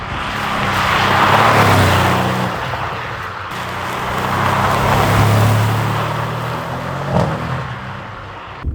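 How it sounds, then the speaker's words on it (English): A black car roars past close by, its engine surging and easing as traction control cuts in, with a loud broad rush that swells twice and fades. No voices are heard. "We're gonna try to get a couple flybys and hopefully he doesn't hit me or the pole"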